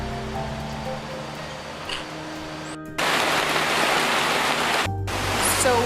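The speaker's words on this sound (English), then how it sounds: "So right now it is pouring rain, like a proper jungle rainforest rain." Heavy jungle rainforest rain pours down in the Ecuadorian Amazon as a steady, dense hiss that grows louder midway, with brief gaps and a faint low hum underneath.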